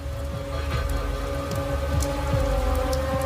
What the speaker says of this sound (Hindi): बाहर अभी भी बारिश हो रही थी।